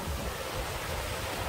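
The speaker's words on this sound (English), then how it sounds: "And I'd like to show you a river here." Glacier-fed mountain river rushing steadily nearby, a continuous broadband roar of flowing water with no voices.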